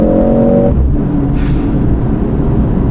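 A 2024 Mercedes-AMG C63 S engine roars loudly and continuously as it accelerates hard at full throttle, a brief high whine cutting through midway.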